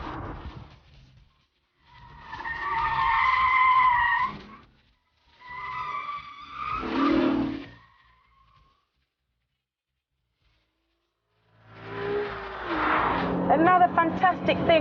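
A Honda NSX sports car with a VTEC engine, driven hard with traction control switched off, gives three separate bursts of tire squeal and engine roar. The bursts are loud, with quiet gaps between them, and a voice is heard in places.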